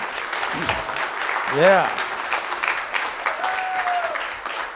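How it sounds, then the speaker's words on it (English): Applause for young men and adults at a city proclamation ceremony: a steady clatter of clapping from a room full of people, with a voice briefly speaking over it. "let's give these adults and young men a round of applause for a great job this year"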